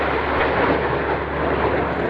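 Steady loud roar of a fixed-wing aircraft at East Midlands Airport on a wet Sunday afternoon, a continuous broadband engine rumble with wind buffeting, no pauses.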